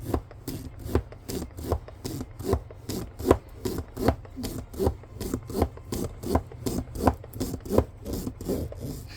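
A roller is rolled back and forth over a finished diamond painting, making steady, rhythmic rubbing and crackling strokes, close and fairly quiet with no voices.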